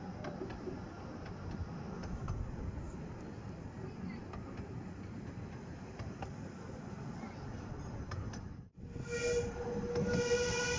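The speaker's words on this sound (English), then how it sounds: "you can also hear the whistles a lot better." Steam engine whistle on the Ravenglass railway, rising near the end over a steady rumble and clatter of a moving train, with a brief drop just before the whistle comes in.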